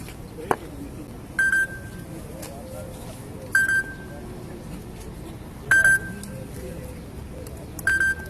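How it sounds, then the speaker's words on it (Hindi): A mobile phone rings during an outdoor cricket match. Short, bright electronic ring bursts repeat about every two seconds, four times, while players talk nearby. "हे कोणाला फोन आहे"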